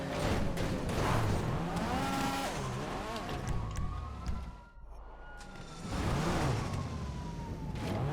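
Open-wheel race car engine in the GTA FiveM video game, a loud steady drone with rising and falling pitch sweeps as it revs through gears, briefly dipping midway before surging back.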